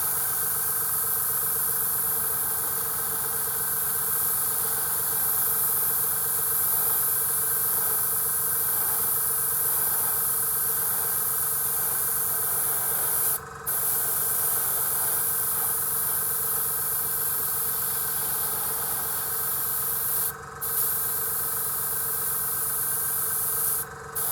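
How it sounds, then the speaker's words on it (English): An airbrush lays down thin coats of Racar Flesh paint, giving a steady, continuous hiss with a mechanical hum underneath, broken by two brief pauses. "So as per usual, 2 thin coats, when we do with the airbrush."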